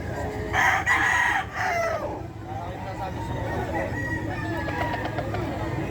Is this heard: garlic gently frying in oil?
no